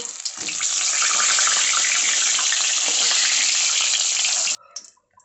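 A fish head sizzles loudly in hot oil, a steady dense crackle for several seconds that cuts off abruptly near the end, leaving a few faint clinks.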